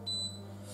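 A single short, clear electronic beep from a new ceramic hob's timer being set, close and brief, over a steady low kitchen hum.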